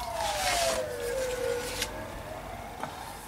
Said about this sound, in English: wait till the siren goes.